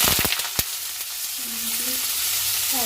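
Potatoes frying in a pan give a steady close sizzle, with a few sharp clatters of a utensil stirring at the start and a faint tonal whine near the end.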